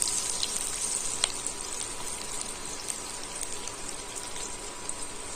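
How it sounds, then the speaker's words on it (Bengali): Chopped garlic sizzles steadily in hot oil for a Bengali chilli soya, a close, continuous bright frying hiss with small crackles and pops and no talking. "তার মধ্যে দিয়ে দিচ্ছি 1 টেবিল চামচ রসুন কুচি,"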